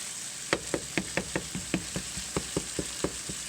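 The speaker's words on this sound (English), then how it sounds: "Stir the pasta. Stir the pasta." Pasta stirred in a pot, a spoon scraping and knocking in a quick steady rhythm of about a dozen sharp taps and scrapes over a constant low background hiss, close and alone with no talking.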